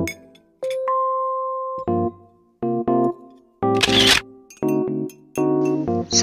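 A camera shutter snaps a photo in the Sakura School Simulator game, a sharp burst set among chiming game tones and bright electronic notes, all close and clear with no talk.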